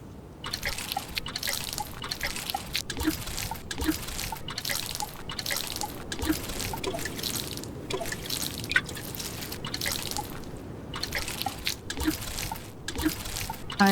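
Hand-watering crops in the farming game Grimshire, heard as a steady, close run of dripping, trickling water with soft splashes that keeps going without pause, and no voices over it.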